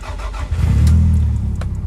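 A Toyota Celica ST185 with a freshly rebuilt forged engine cranks briefly and fires up, the motor catching at once and settling into a loud, steady low rumble, close by with no talking.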